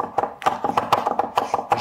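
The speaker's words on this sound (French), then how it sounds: "On va hacher ça finement." Garlic is finely chopped with a knife on a board in quick, rhythmic, close taps, about a dozen crisp strikes in under two seconds, with no talking.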